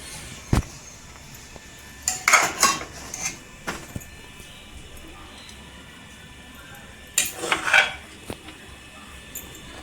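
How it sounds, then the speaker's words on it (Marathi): A spoon scrapes and clinks against a metal pot while serving cooked green pea rice onto a plate, heard as two short bursts of clatter separated by quiet room tone. "इथे आहे ना आता आपण प्लेटमध्ये काढून घ्यायचं वाटाणा भात"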